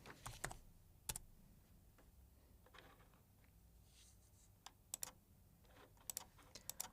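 Keystrokes on a computer keyboard as login credentials are typed in, scattered clicks in short bursts and single taps, fairly faint over a quiet room, with no talking.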